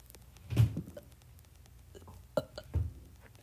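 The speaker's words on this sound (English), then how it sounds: "I love burping." Someone burps a few times in a low, throaty way, close to the microphone, with short pauses of quiet in between and no talking over it.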